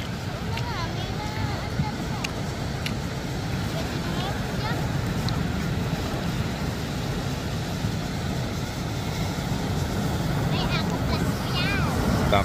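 Rough seas with big waves surrounding a small boat at sea, a constant heavy rumble of water and wind roaring close by throughout, with voices talking faintly underneath.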